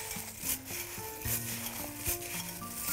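Corn flakes being stirred with melted chocolate in a bowl, producing crisp, crackling scrapes and rustles in quick irregular strokes, fairly close and steady throughout.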